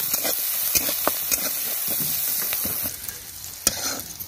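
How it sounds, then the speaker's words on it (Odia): Onions sizzling in hot oil in a kadai during village-style masala okra cooking, a steady frying hiss with scattered sharp crackles and stirring clatters, close and continuous with no talk. "ତେଲ ଗରମ ହେଇଛି କାରଣ କଡ଼େଇଟା ଗରମ ଅଛି, ପିଆଜ ପକାଉଛି ପ୍ରଥମେ।"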